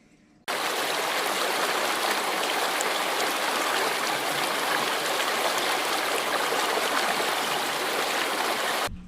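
Water pours steadily and loudly into a 40-gallon turtle tank, a continuous rushing flow that starts abruptly and holds constant for several seconds with no talk.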